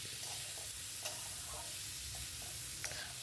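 Pumpkin and moong dal with salt and turmeric stirred in a pot over medium-low heat make a faint, steady sizzle with soft scraping strokes and a couple of light clinks.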